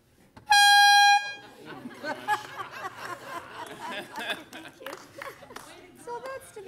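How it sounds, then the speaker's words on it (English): An air horn blasts once, loud and close, in a city council chamber, a short sustained honk followed by people talking and chuckling. "It's really an air horn."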